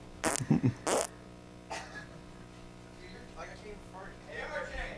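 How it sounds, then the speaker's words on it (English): Several farts in quick succession open the stretch, loud and close, followed by quieter voices talking over the rest. "Those farts being stereo too."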